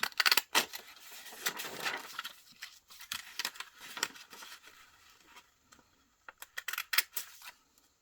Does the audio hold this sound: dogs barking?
no